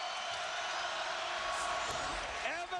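Basketball arena crowd at a 1993 Michigan versus Indiana college game, a broad steady roar of cheering filling the hall, with a commentator talking over it.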